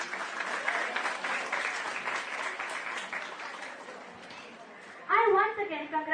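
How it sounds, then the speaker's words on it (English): Sustained audience applause for the winners at a school outreach program, steady dense clapping filling the room for several seconds before a voice comes in over it near the end. "A big round of applause for all the winners"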